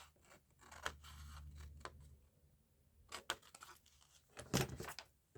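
Scissors snipping through a book page while crafting pockets: a few quiet, close cuts with papery crunches, spaced irregularly with pauses of handling rustle between them.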